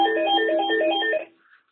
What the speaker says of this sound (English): The same line that never rings, hasn't rang since last week, is now ringing again.